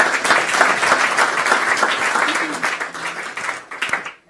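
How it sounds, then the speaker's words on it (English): An audience at an evening science lecture in Cambridge bursts into steady applause, dense close clapping that holds for a few seconds before thinning out. "Let's give them a round of applause, please."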